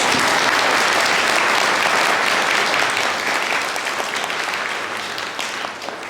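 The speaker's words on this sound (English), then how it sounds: "shall we have a round of applause for our candidates?" Audience at a 33rd Legislative District candidate forum applauds the candidates, a dense, sustained round of clapping from a room full of people that eases off slightly toward the end.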